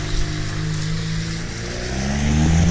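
A car fitted with an aftermarket exhaust and blow-off valve rumbles low and steady nearby, its engine note rising as it pulls away at the end, with no voices over it.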